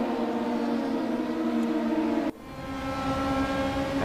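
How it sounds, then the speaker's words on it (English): DTM 2020 touring race cars in the racing video game drone with steady engine tones. The pitch drops sharply partway through as a car shifts gear, then climbs again. There is no talking. "really love the sound of the cars"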